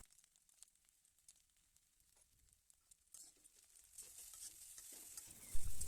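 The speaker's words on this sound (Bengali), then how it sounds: "সসটা চাউমিনের সাথে ভালো করে মিশিয়ে নেব।" Egg chowmein being stir-fried with mixed sauce starts with quiet, sparse scraping and stirring, then builds into a steady sizzle with louder tossing toward the end.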